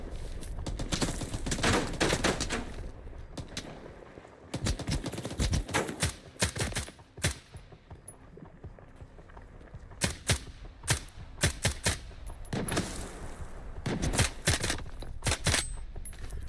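Gunfire in S.T.A.L.K.E.R. 2, shots fired at enemies holding high ground, coming in bursts of sharp cracks and rapid volleys with brief quieter gaps between, loud and close throughout.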